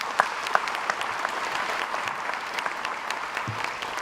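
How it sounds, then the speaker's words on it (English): An audience at a school district breakfast event claps in a steady, moderately loud round of applause, with a few sharper individual claps standing out across the brief burst. "So please give our cities a nice round of applause."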